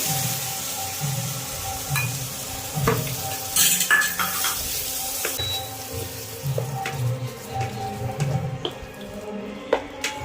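Turmeric and poppy seed paste being stirred into a fish curry in a pan, with repeated spoon scrapes and clinks on metal over a soft sizzle, close and steady with no speech.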